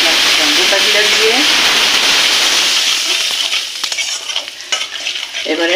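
Whole cumin seeds hit hot oil in a pan with a strong, loud sizzle that settles into a steady crackling hiss, with a brief stirring scrape and a voice heard near the start.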